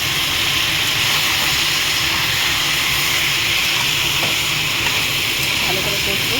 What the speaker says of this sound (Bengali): আদা বাটার জল দিয়ে একটু ভালো করে কষতে থাকবো